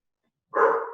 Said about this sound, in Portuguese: Essa é a Jasmine que está latindo